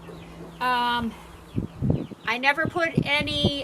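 Chickens clucking inside a chicken hoop house, a few short clucks and calls close by, partly overlapping a person talking.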